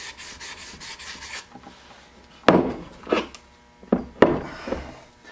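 Hand cleaning of the machined side bearing landings on a broken limited-slip differential from a 2010 Chevy Camaro SS, heard as a few short scraping and rubbing strokes with brief pauses, close and fairly quiet, following a soft rasping stretch.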